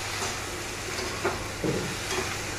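Chopped tomatoes frying in a pan for tomato and onion chutney with green chili, a continuous low sizzle with a few soft spoon scrapes and knocks as the mixture is stirred.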